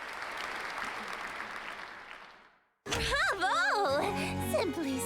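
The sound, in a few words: applause in video game Sucker for Love: First Date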